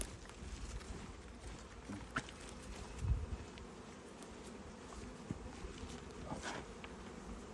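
Honey bees buzz around outdoor hives in a soft, continuous drone, with occasional closer fly-bys and a few faint knocks.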